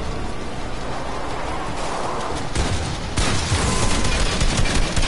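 Rapid gunfire bursts in the Fortnite video game, loud and crackling over a steady noisy backdrop, intensifying toward the end with dense repeated shots.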